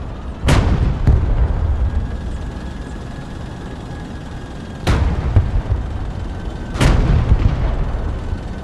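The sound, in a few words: tank firing armor-piercing kinetic rounds in video game Broken Arrow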